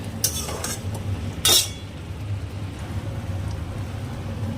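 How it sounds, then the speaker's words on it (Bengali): Fried potatoes being stirred into spice masala in a pan make a couple of sharp scraping clinks near the start, then a low, steady background rumble. "ভেজে তুলে রাখা আলুগুলো দিয়ে ভালো করে মশলার সাথে মিশিয়ে নেব"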